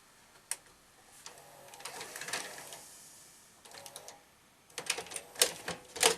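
A Panasonic S-VHS video deck ejects a tape, giving a run of clicks, clatters and whirring mechanical movements that come in bursts, quiet, then busier toward the end.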